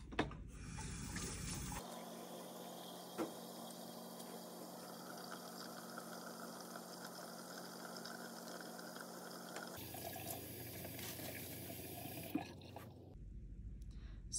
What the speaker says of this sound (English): we have to wash our hands for 30 seconds